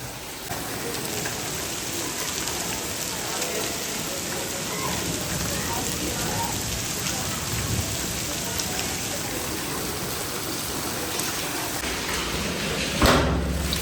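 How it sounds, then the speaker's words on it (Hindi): Heavy rain with large drops pours steadily in a snowy setting, a dense, continuous hiss and patter that stays even throughout, with a brief louder disturbance near the end. "बारिश और तेज़ हो गई है, बूंदें देखिए कितनी मोटी मोटी हो गई नज़र आ रही है।"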